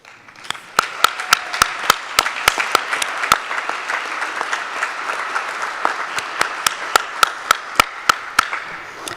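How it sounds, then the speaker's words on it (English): Applause from a standing audience at a fall commencement ceremony, dense steady clapping with loud sharp individual claps punctuating it, sustained for the whole stretch. "Please stand and give a round of applause for your mentors, instructors, therapists, coaches, and now friends."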